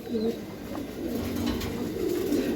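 Close, continuous cooing from Giribaz pigeons, overlapping low throaty warbles that run without a break, with a faint human sound briefly mixed in.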